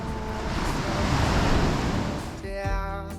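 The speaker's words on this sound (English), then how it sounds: "the waves are just too loud, you will not hear us" Heavy beach surf on the coast of Lefkada, Greece, a loud broadband roar that swells and recedes, with music coming in over it near the end.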